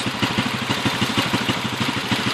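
A Honda CG motorcycle engine idles close up with a steady, rapid thumping beat, and a slight metallic rattle runs through it, with no talk over it.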